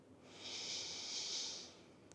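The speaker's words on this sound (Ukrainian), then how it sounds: "І робимо глибокий вдих. І повільний видих." One slow, deep breath, a long airy inhale and exhale during a calm children's yoga session, soft and close with no talking.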